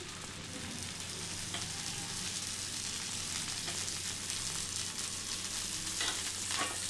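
Oil sizzles steadily on a rice flour dosa in a pan, a continuous, even crackling hiss with faint pops, moderately quiet and close, with no speech.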